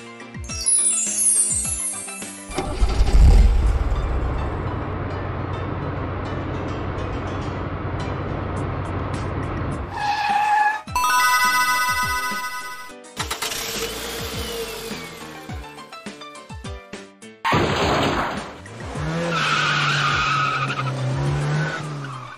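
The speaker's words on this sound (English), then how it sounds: "Garbage truck" A garbage truck sound effect from a children's learning song: a string of separate mechanical bursts, including a screeching squeal, engine rumble and whining, clanking tones, played back to back with short gaps and no speech.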